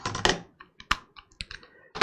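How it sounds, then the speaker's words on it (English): A computer keyboard and mouse are handled while being set up for a mini PC, producing irregular clusters of sharp plastic clicks and taps with short pauses between them, close and fairly loud with no voices. "So I'll grab my keyboard and mouse over here."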